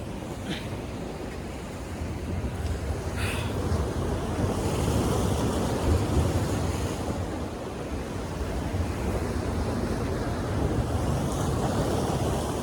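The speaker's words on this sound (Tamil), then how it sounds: "இங்கே கடல் பக்கத்தில் தான் இருக்குது எவ்வளோ அலை அடிக்குது" Sea waves break steadily on a Seychelles shore, a continuous loud wash of surf with rolling swells, rough wind buffeting the microphone throughout and no voices.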